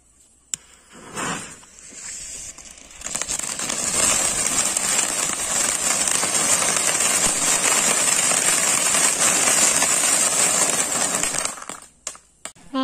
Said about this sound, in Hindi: तो चलिए इसको ओपन करके आग लगाते हैं, देखते हैं कैसे चलता है